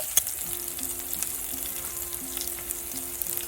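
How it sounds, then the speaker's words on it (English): Chopped onions and cumin seeds sautéing in hot oil in a pan for an Indian quinoa pulao, a steady close crackling sizzle with faint stirring scrapes, no voices. "Add half finely chopped onions. Saute them till translucent."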